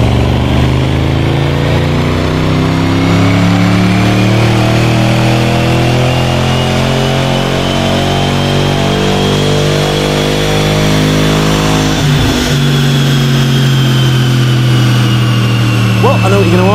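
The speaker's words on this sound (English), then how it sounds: "it's time to get the XFR strapped back down to the dyno to find out exactly what all those changes add up to" Jaguar XFR with Predator upgrade strapped to a dyno, its supercharged engine climbing steadily in a loud continuous rev sweep, then briefly dropping before rising again near the end.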